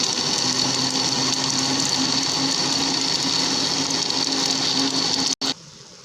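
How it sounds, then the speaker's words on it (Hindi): A countertop blender whirs continuously at high speed, mixing falsa berries with water into juice, a loud steady motor drone that cuts off abruptly near the end. "एक दफ़ा फिर से हम ब्लेंडर चलाएंगे।"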